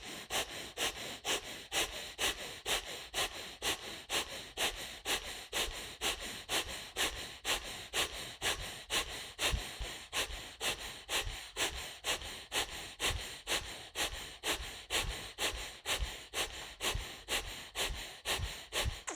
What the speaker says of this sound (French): Et on active la respiration abdominale simple ou le Bhastrika.